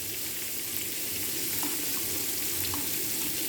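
A spoon stirs a spoonful of cornflour into a fish sauce, a steady soft wet swishing and faint sizzle-like hiss that continues evenly throughout.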